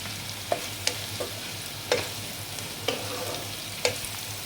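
Onions fry in a pan with whole garam masala, bay leaf and dried chilli for prawn pulao: a steady soft sizzle broken by several sharp stirring clicks of a utensil, close up, with no talking.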